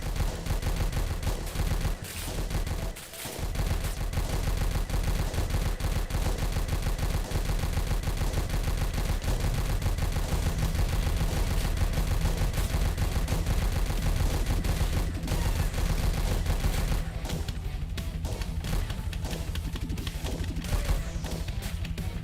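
Gunfire from the top boss in the Heavy Metal Titans arcade game, relentless rapid machine-gun bursts and crashing blasts filling the whole stretch, loud and dense with a brief dip near the start.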